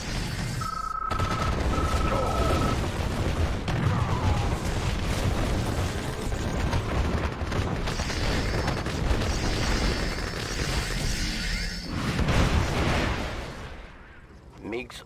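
Airstrike explosions in C&C Red Alert: repeated heavy booms and crackling blasts rolling one after another over a dense battlefield din, with a short radio-style voice and a tonal beep near the start, then a fresh surge of rumble near the end.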